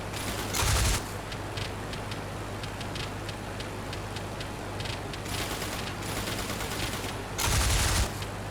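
Machine guns of a rear gunner in the Flying Circus flight game fire in short rapid bursts over a continuous engine hum, with two louder blasts near the start and end.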